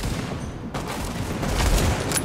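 Gunfire in Tom Clancy's The Division as a short burst of rapid shots and impacts, loud and dense across the whole moment, with no voices.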